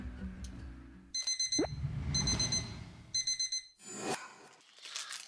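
An alarm clock rings at wake-up in three short bursts of rapid beeping, each lasting about a second, with rustling and handling noises between and after them.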